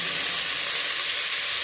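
Tomatoes going into a pan of onion, ginger and garlic frying for an Assamese fish curry, giving a loud, even hiss of sizzling oil with faint stirring, no voices.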